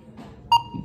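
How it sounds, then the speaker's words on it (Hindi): A single sharp electronic timer beep marks the start of a 15-second movie-guessing challenge round, ringing with a clear tone over faint background talk. "टाइमर हो गया ऑन"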